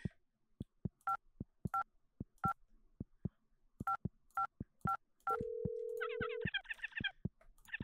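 Telephone keypad tones in the game Hold the Phone: a string of short, evenly spaced beeps, a held steady tone near the middle, then a quick burst of rapid dialing chirps, all clear with no talking.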